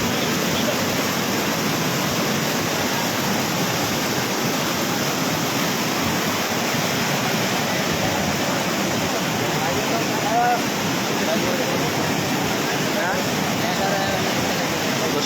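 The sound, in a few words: fast flowing Khowai river water current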